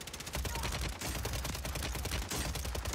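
Rapid automatic gunfire crackles in the Warzone 3 video game, a dense, continuous burst of shots at a steady loud level.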